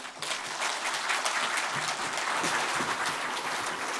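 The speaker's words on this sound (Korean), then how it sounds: "이제 우리 정재성 강사님을 큰 박수로 모시겠습니다" A congregation at a Shincheonji gathering in a Jeongeup church applauds loudly to welcome a guest lecturer, a dense, steady wash of clapping that holds for about four seconds.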